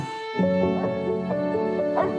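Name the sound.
dog barking in a film trailer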